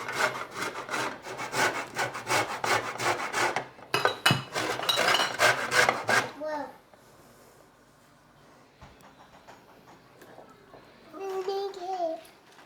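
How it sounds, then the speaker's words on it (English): Oranges and a lemon are zested on a grater. Rapid, rhythmic scraping strokes dominate the first six seconds, close and fairly loud, followed by quieter handling sounds and brief voices. "So we're gonna get the zest off of these 2 oranges, and then we're gonna squeeze the juice out of them as well."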